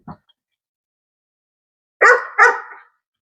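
A trained dog gives two short, sharp barks in quick succession during a hold-conditioning session, close and loud after a long silence that opens with a brief soft knock.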